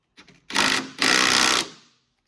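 Two loud bursts from a power tool running down control arm bolts on a 92-95 Honda Civic, a short stutter and then a longer buzzing spin, close up and alone.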